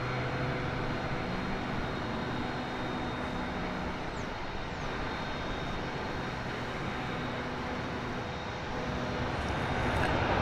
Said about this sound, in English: It is a Cessna 208B Grand Caravan. Another small cargo aircraft.